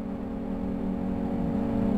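A race car in a championship season finale roars steadily closer, its engine note building in loudness over a couple of seconds as it nears and passes.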